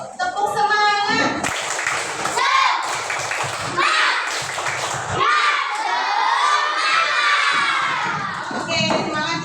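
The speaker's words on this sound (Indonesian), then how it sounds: "kita tepuk semangat dulu yuk" Third-grade schoolchildren in a classroom shouting a rhythmic spirit clap chant together, loud voices mixed with claps and thumps, the chant rising and falling across the clip.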